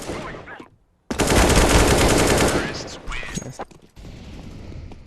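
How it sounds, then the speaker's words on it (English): Rapid automatic gunfire in Counter-Strike rattles loudly in a sustained burst after a brief pause, then trails off into scattered shots and game noise. "You gonna shoot your gun, boy?"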